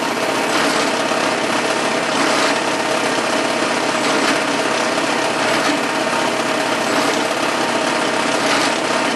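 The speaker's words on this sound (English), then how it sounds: "I just drill a little bit, stop" A power drill boring into a workpiece with a drill bit, a steady whining motor drone that runs continuously and loud at close range, with no pauses or talk.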